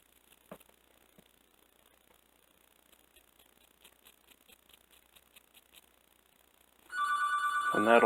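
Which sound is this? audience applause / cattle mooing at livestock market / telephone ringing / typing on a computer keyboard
telephone ringing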